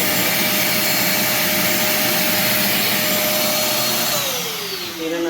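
A vacuum cleaner drawing air through a cyclone dust collector roars in a loud, steady, high whine, then winds down with a falling pitch near the end.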